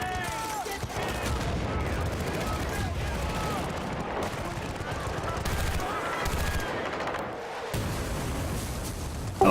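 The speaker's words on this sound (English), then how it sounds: "That was definitely a rocket launcher." Heavy combat in the video game Battlefield: Bad Company 2, with rocket launcher fire amid rapid gunfire bursts and explosions, dense and loud, while a voice talks over the battle.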